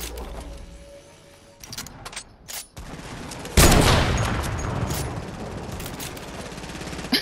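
Rapid automatic gunfire in the video game Fortnite, a dense sustained burst that swells suddenly loud midway and rattles on with some scattered hits earlier, no voices over it.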